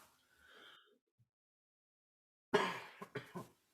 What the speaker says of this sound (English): Figured better off not to cough in the direction of the microphone.